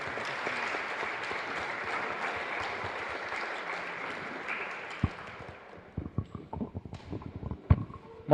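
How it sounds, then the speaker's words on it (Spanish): A congregation at Mass in a chapel in Lambaré applauds in a dense round of clapping that fades out, leaving scattered individual claps and knocks near the end. "un fuerte aplauso para ustedes"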